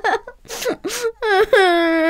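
A cartoon piglet from the Three Little Pigs wails and sobs up close, with short broken whimpers rising into a long, loud, drawn-out crying moan.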